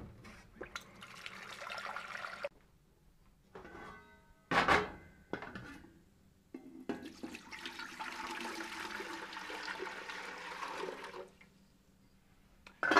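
A gallon of water poured into a container for a bread starter: bursts of splashing, gurgling pour separated by short pauses, with a loud clatter in the middle and a longer, steady pour near the end, all close.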